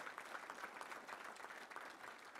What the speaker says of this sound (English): Let's give all of our big sponsors such a round of applause for being so great